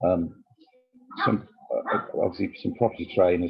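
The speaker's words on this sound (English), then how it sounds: "Sorry about the dogs in the background." Dogs bark in the background, intermittent and partly masked, while someone talks steadily in the foreground during a property investment Q&A.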